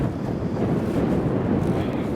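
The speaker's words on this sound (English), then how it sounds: "This wind is far from ideal." Steady wind buffets the microphone while out bass fishing from a boat on a lake, a constant low roar and rumble filling the whole moment with no voices.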